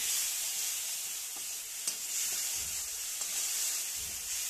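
A paste of ground cumin, green chili and cardamom sizzles in a hot pan for a vegetarian green pea curry, with a steady broadband crackle and a few soft stirring knocks. Nobody speaks.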